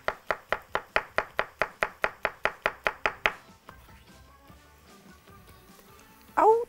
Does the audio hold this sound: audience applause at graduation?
no